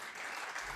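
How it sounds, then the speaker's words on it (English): Crowd applauding at an esports grand final, a broad steady wash of clapping at moderate distance through a brief moment, with no talk over it. "And you can hear the crowd"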